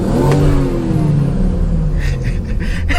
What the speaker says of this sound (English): the shifts are sounding very, very nice, bro. The car is sounding brand new